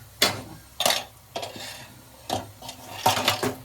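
Spoon scraping and clanking against a pan while a coconut-chili masala mixture for pomfret fish chutney is stirred, in about six separate sharp metallic scrapes spaced irregularly over a quiet background.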